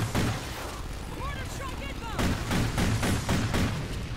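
Repeated explosive blasts from a mortar strike in the Call of Duty Ghosts Extinction mode, a rapid string of loud booms and gunfire-like bursts mixed with game effects, with players talking over them.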